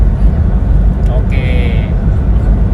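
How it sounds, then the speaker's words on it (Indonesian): A diesel SUV engine revs up to about 2500 RPM during a highway drive near 120 km/h, a steady low rumble with road noise carrying under a brief spoken word. "sekarang kalau angkanya itu kita naikkan ke 2500 RPM. Nih, kita gas lagi."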